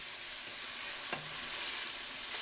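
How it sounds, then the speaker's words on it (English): Tomato paste cooking down in hot oil with roasted spices, a loud continuous hiss and sizzle close up, broken by one brief utensil knock. "I will add the tomato paste that we made, and we will let it get a little thicker, cook, and roast in the spices"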